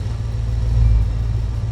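A truck engine idles steadily in the BeamNG driving game, a low continuous rumble with a slight swell in the middle, close and alone with no talk.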